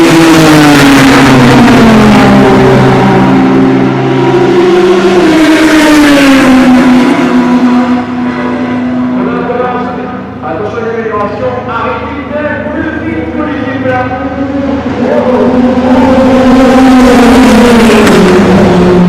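Toyota race car at the Le Mans 24 Hours qualifying pulls away, its engine note rising and shifting in loud harmonic tones, with excited commentary running over it throughout.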